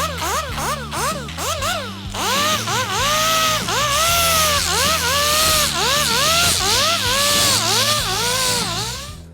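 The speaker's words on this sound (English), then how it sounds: "I ground the lap, and obviously with a right angle grinder you want to be real careful not to get into the airbrush." A right angle grinder grinds the fiberglass lap on a surfboard deck, a loud, continuous, close whine whose pitch dips and rises repeatedly as the disc is pressed and eased across the surface.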